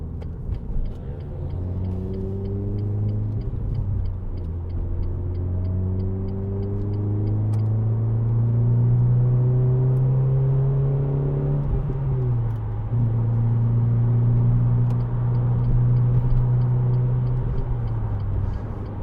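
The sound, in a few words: Renault Clio 2.0 Renaultsport four-cylinder engine revving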